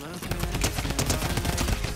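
Rapid sustained gunfire from the Midas drum gun in Fortnite, a dense, continuous burst of automatic shots at close range filling the whole moment with no pauses.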